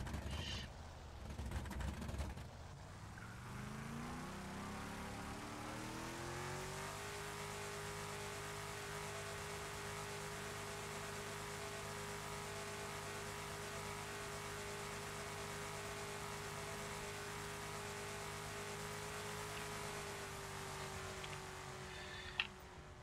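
Race car and Camaro engines in the GTA FiveM driving game roar together at a steady, loud drone with sustained high revving, opening with a rough burst of acceleration and a brief sharp click near the end.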